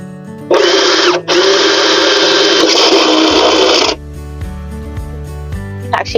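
A handheld power drill bores into a plant container outdoors, a loud close whine that starts, pauses briefly, then runs about three seconds before cutting off.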